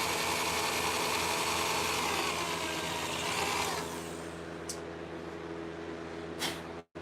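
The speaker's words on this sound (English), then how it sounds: "I'm trying to drill just the rivet off." A power drill grinds off a brass or copper rivet on leather leg armour, a loud close whine for several seconds, then easing to a lower running hum with a couple of brief noises.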